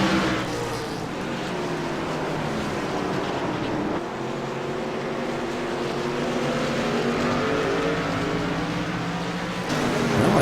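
Race cars lap the short oval at Martinsville in a Maximum Speed Racing League event. Their engines make a steady, loud drone that rises and falls as they pass, with no talk over it.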